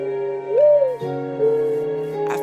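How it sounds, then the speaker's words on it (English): A bird call in the jungle of the Minecraft video game, a few sustained tonal hoot-like notes that rise and fall, clear and fairly close over a steady synthetic background hum. "I found the bird."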